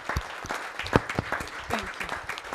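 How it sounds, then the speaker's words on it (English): Seminar audience clapping in a brief, fairly close burst of applause, scattered individual claps standing out from the crowd with no talk over it. "give yourself a hand of applause for just being here and succeeding in life"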